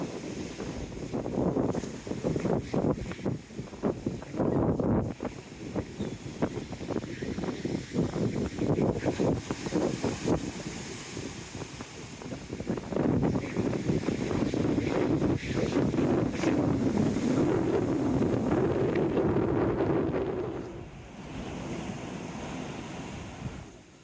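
Strong wind buffets the microphone on a blustery coastal walk, a continuous roaring rush with surf-like swells that rise and ease, heard alone without talk.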